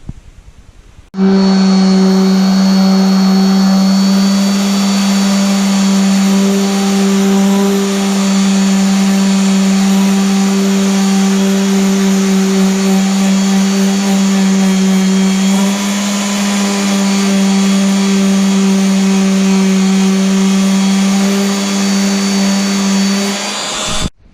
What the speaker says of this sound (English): Over here I have the random orbital sander with 120 grit sandpaper, and I'm gonna sand all these edges off.